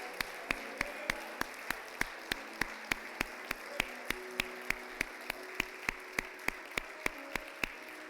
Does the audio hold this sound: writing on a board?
no